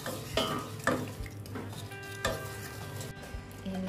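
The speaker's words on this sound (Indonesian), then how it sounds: "Gula merahnya saya masak, cairkan, nanti disaring." Palm sugar is cooked and melted in a pot, giving soft sizzling with a few sharp clinks of a utensil against the metal, close by and without talk.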